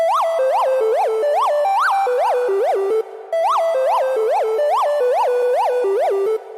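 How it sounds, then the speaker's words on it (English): A bright, unfiltered Omnisphere arpeggio lead plays in a trap beat hook, a fast cycling pattern of rising and falling synth notes, loud and steady, with a brief drop near the middle and no one talking. "So in the hook you can hear the non-low passed lead here."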